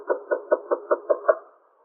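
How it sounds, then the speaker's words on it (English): A key working in a door lock as a radio-drama sound effect: six or seven even, muffled knocking clicks in a steady rhythm, close and alone, fading out at the end. "that's the key in the door"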